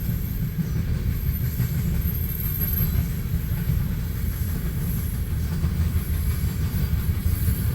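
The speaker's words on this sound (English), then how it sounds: "It's a unit train of coal." A coal unit train rolls past on the rails near Bailey Yard, a steady low rumble of wheels and cars with faint clickety-clack and a thin high squeal riding above, continuous and close.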